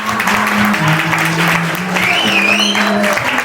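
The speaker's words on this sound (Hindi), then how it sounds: "गले में डाल रहे हैं तो जोरदार ताली बजाएंगे हम लोग।" Wedding guests applaud loudly and steadily throughout, with music tones or hum running underneath and voices mixed into the clapping.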